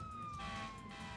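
A wailing fire station siren in the SimCity 4 city-building game, a steady tone with a slow downward glide, loud and continuous over a dense electronic game background with no talk.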